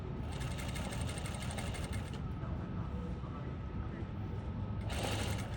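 A sewing machine stitches in reverse on a pocket, with close, rapid mechanical whirring in a burst near the start and again near the end and a quieter hum between.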